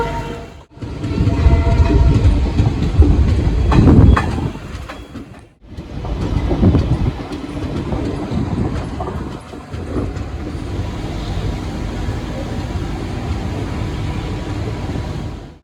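Garib Rath Express train pulling out of Supaul railway station, a loud continuous rumble of rolling wagons with brief pauses and a steady rhythmic clatter throughout, no voices.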